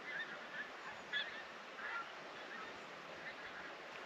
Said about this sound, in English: I love geese migrations.